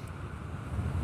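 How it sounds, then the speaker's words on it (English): Steady wind buffets the microphone with a low, rumbling roar and no voices, outdoors at a massive liberation monument in Bulgaria. "Pretty epic, but it's also pretty windy."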